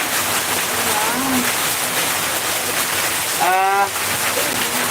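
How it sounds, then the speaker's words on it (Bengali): Constant dense hiss of heavy rain pouring down close by, with a brief voice rising over it near the end. "বৃষ্টি হচ্ছে"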